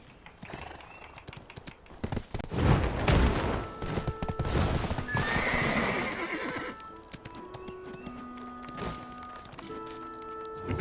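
Horse in a video game whinnying loudly and clip-clopping, with bursts of gunfire and other game effects around it, hooves and neighs close and prominent over roughly ten seconds.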